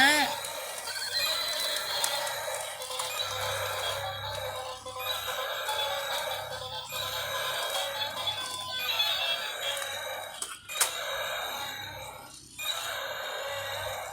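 A toy horse gives a repeated electronic neighing whinny among other toy animal sounds, close and fairly loud, with short pauses between calls.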